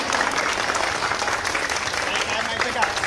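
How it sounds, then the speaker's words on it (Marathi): An audience gives a madam a steady round of applause at a gathering, dense clapping that stays loud and even for the whole stretch, with no pauses. "मी आपल्या सगळ्यांना विनंती करते की मॅडमसाठी एकदा जोरदार टाळ्या होऊन जाऊ द्या"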